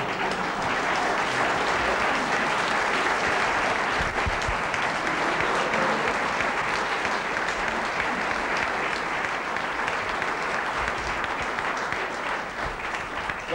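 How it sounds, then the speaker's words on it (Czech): Sustained, dense applause from a theatre audience at a live comedy and variety show, steady and enveloping for the whole stretch with no voices breaking through. "Ďakujeme za potlesk, za aplaus."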